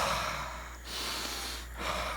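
A young child breathing in through the nose during a speech exercise after tongue-tie treatment, two audible sniffing inhales separated by brief pauses, close and fairly loud.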